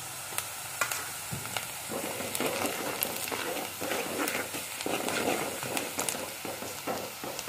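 Red masala and garam masala sizzle in hot oil in a pan for a Konkan-style suran (elephant foot yam) bhaji. A steady, close frying hiss runs throughout with scattered pops and faint stirring scrapes.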